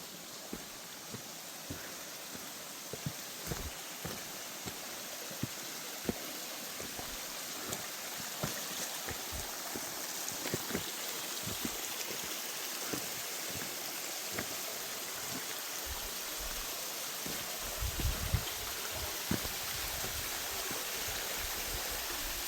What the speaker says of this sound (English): I was wrong, there's another waterfall.